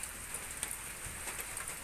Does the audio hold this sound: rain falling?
yes